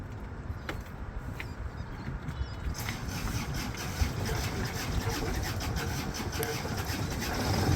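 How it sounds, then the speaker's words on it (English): Inboard engine of a C&C 39 sailboat starting and running on a test: a dense, rough, low rumble swells after a few seconds into steady idling, close and fairly loud, without talk. "we're going to test run the engine, make sure we got water flow"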